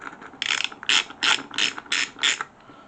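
A Spurtar universal socket on a tight, partially rounded fastener is turned with a ratchet, giving six crisp, evenly spaced bursts of pawl clicking up close.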